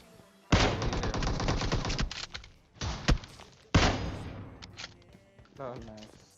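Repeated bursts of automatic gunfire in the battle royale video game PUBG, several loud rapid volleys separated by short pauses, with a few thuds and clinks between them.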